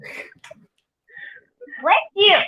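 A quick, close sneeze bursts out after some soft vocal sounds, followed by a brief sniffly exhale.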